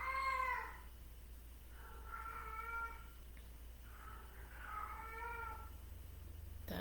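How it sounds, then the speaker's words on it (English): A house cat meows repeatedly indoors during a quiet meditation session: three or four clear, tonal meows close by, each about a second long, separated by short pauses, over a steady low hum. "That's my cat Jade"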